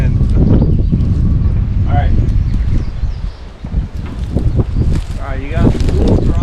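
Strong wind buffets the microphone outdoors on Tennessee hunting land, a constant loud rumble throughout with brief voices and rustling mixed in.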